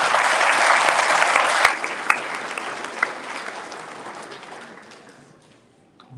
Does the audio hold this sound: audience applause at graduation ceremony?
yes